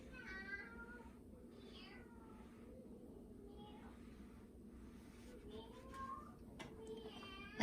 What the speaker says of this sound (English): They're meowing like kittens in there.